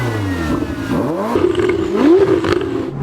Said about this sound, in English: You can hear this very full-bodied strive from the titanium exhaust.